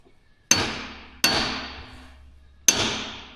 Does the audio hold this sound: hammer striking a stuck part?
yes